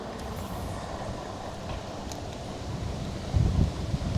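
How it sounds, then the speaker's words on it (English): Wind blowing outdoors at a fishing spot, a low, fairly faint rushing rumble buffeting the microphone, steady at first and then gusting stronger near the end, with no talking. "Oh, got some wind coming up."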